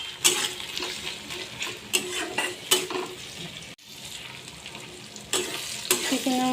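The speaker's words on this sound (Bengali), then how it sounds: "আমি কড়াইয়ে টমেটো কাঁচা লঙ্কা দিয়ে দিলাম" Tomato and green chili frying in a wok with onion, a steady sizzle broken by sharp scraping stirs and clinks of a utensil against the pan, with a brief drop to near quiet midway before the sizzling resumes.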